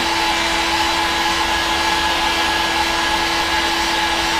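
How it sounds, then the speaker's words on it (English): A heat gun blows steadily to soften plastic pipe for a DIY hydroponic garden tower, a loud constant whooshing drone with a fixed tonal whine, close and unbroken throughout without speech. "Don't hold the heat gun in one spot, otherwise you will put burn marks."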